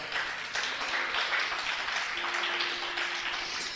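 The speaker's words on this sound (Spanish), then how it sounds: "Denle un aplauso al Señor." A church congregation applauding, a dense, steady wash of clapping that holds for several seconds at moderate distance, with no voice over it.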